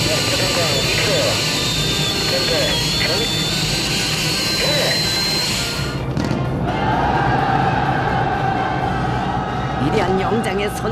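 Roar of a formation of twenty fighter jets and five helicopters flying over Pyongyang at a 2022 air display, a loud, sustained jet rush with a pitch shift midway and rhythmic rotor thumping, under an announcer's voice.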